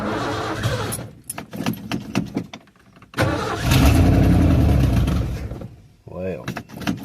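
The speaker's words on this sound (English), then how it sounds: "Fire this old truck up this morning to see how it's gonna run." An old carbureted truck engine cranks and fires up on a cold morning, rising to a loud, rough rumble after a jangle of keys, with some background noise around it.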